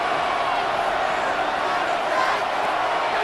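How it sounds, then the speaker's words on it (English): Stadium crowd roaring at an NFC Divisional playoff game, Detroit Lions at Los Angeles Rams, as third down approaches; a dense, steady wall of cheering and crowd noise holds without a break. "This crowd into it now as we get to third down."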